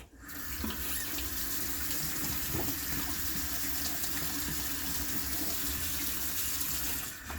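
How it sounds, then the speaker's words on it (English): A facial cleansing brush head is rinsed under a running tap, giving a steady, close hiss of water splashing into a sink that runs unbroken for the whole stretch with no talking. "Then I'll take the brush head off and I'll rinse that."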